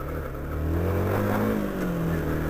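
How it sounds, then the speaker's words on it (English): A small 2-stroke 50cc motorbike engine runs close by, a buzzing mid-pitched drone that rises slightly in pitch and then settles, heard alone. "The guy's a wee 2-stroke 50."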